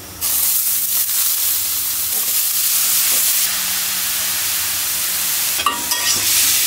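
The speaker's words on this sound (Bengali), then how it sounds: "তেলের মধ্যে পেঁয়াজ, কাঁচামরিচ, রসুন কুচি বেশি করে" Onion, green chili and chopped garlic fry in hot oil with a loud, steady sizzle and hiss that runs throughout, close up, with a brief stirring scrape near the end and no talking.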